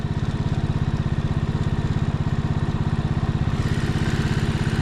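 A small motorcycle cruises a country road at about 55 mph, its engine thrumming in a steady, even pulse with constant wind rush close by.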